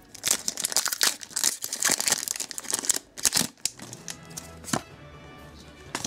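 Foil Pokémon card booster packs from a Shining Legends box are torn open by hand, giving close, busy crinkling and ripping that fades into lighter handling and soft taps near the end.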